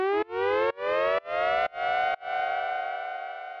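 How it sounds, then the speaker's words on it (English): A synthetic siren effect in a bass house track rises in pitch again and again in short sweeping pulses, five quick chopped repeats, then a longer sustained wail that fades. "And then I just added in the siren."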